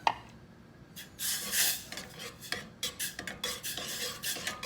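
A spoon scrapes and clinks against a pot while thick whiskey chipotle BBQ sauce with molasses is stirred, a quick irregular run of close scraping strokes, quiet and alone.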